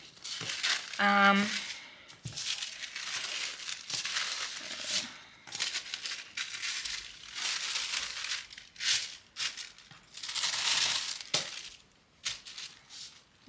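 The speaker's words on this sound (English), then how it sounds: "I like to wrap up my plushies in this little like tissue paper" Tissue paper crinkles and rustles as it is wrapped around a crochet plushie for a custom order. The bursts come close, irregular and fairly soft, with brief pauses between handling sounds.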